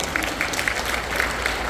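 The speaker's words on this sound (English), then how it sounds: "Please give them a round of applause." An audience at a Vacation Bible School thank-you event claps together, giving a brief, moderately loud patter of many hands, with some crowd murmur underneath.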